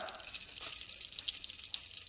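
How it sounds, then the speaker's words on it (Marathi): Chopped onion and green chillies tempered in hot oil and melted butter with curry leaves for a mutton curry, a faint steady sizzle with a few small pops, heard alone. "बारीक चिरून घेतलेला कांदा होता, ओनियन आणि मिरचीची फोडणी देऊ"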